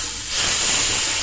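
Hot tempering tipped into a pot of tamarind sambar gives a sudden loud, steady hiss and sizzle that swells after a brief quiet start and holds close up, with no talking.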